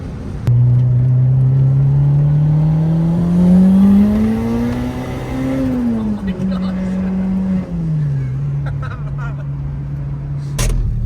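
Honda Integra with a Spoon N1 exhaust running close by, a steady low exhaust drone that rises gradually in pitch, peaks, then settles back to a constant tone, with faint speech in the background.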